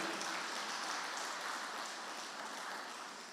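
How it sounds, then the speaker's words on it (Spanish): A church congregation applauds, a dense, even patter of many hands clapping at moderate distance that holds steady and fades slightly toward the end. "Demos un fuerte aplauso al Señor, hermanos."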